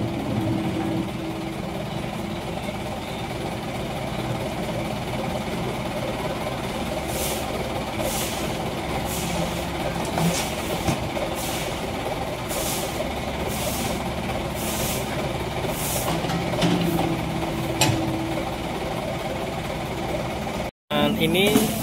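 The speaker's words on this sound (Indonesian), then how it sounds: "Dan ini sudah datang lagi truk yang siap diisi dengan puing-puing hasil pengerukan dari Kali Baru ini kembali datang." Idling trucks queue to be loaded with debris dredged from the Kali Baru river, their engines rumbling steadily with intermittent clatter and a few beeps, under continuous talk.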